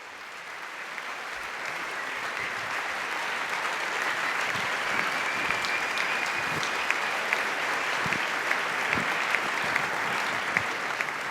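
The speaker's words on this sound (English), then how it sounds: "A huge applause." Sustained audience applause fills a conference hall at the close of a talk at the 39C3 Congress, a dense steady wash of clapping with no voices on top, holding level for about eleven seconds.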